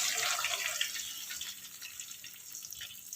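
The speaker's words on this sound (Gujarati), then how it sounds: "તો આપણે પહેલાં 1 ગ્લાસ પાણી એડ કરીશું" Water poured from a glass into a pan while making rasiya muthiya dhokla from leftover rice, a steady bright splashing stream that starts strong and gradually thins out, close by with no talking.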